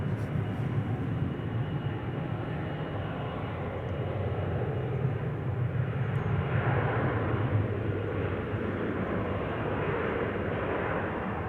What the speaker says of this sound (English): KLM flight 1829 to Stuttgart up next,